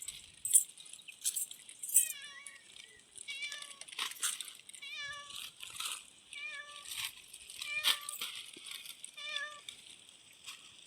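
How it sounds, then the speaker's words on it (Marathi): A cat on a farm meows repeatedly in short, faint, high calls spaced a second or so apart, with light rustling and clinking in between. "ती बघ काय बोलते, म्याऊ."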